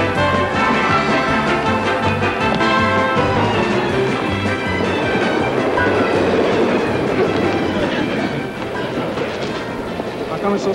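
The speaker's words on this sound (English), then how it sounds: "How about the subway?" A subway train rides along the rails with a steady rumble and rhythmic clickety-clack of the wheels, loud and close throughout, as heard from inside the car.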